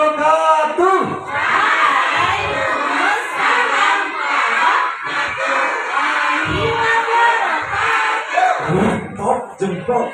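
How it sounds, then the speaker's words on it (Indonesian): A loud crowd of kindergarten children at a Father's Day event at TK Al-Azhar 46 in Samarinda shouts the Islamic greeting reply in unison, a sustained chorus of young voices. "anak-anak TK Al-Azhar 46 kalau menjawab salam luar biasa, keras, mantap, tegas"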